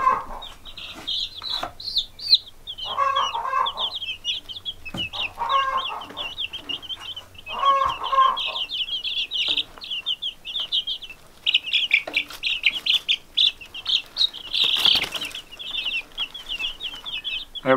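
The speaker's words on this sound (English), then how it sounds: "You don't want to be picking up chickens that's running around squawking" Baby chicks squawk and chirp in steady, high-pitched bursts throughout, with occasional fluttering of wings nearby and no talking.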